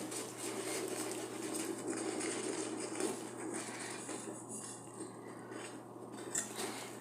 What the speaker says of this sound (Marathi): थोडं थोडं पीठ घालत लाटण्याने ते मिक्स करत घ्यायचं आहे